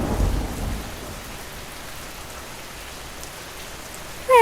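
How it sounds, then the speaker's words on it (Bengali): A deep, loud thunder rumble opens a cartoon thunderstorm, then fades into steady rainfall hiss that continues alone until an abrupt burst at the very end. "কি জোরে জোরে বজ্রপাত হচ্ছে"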